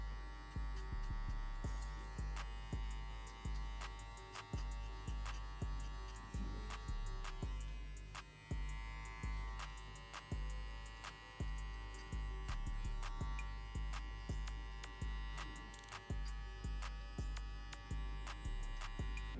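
Electric hair clippers with a one guard buzz steadily through a fade haircut, pulsing in a repeated rhythm of strokes, close and continuous for about twenty seconds.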